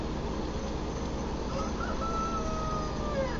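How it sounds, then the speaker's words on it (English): Roosters crowing in the background near a borosilicate glass-working bench, drawn-out calls rising over a constant loud roar of the torch. "Yes, I've got roosters."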